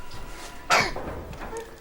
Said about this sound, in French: Ça m'a tout l'air d'une toux sèche.